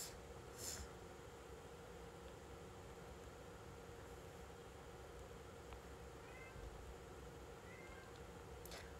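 Cat meowing indoors, a couple of brief, faint mews heard over a steady background hiss, with no one talking.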